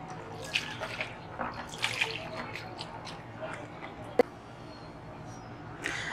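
Water is drained off soaked sliced onions in a home kitchen before they are fried crisp. Close, intermittent splashing and trickling come with a few sharper drips and clinks.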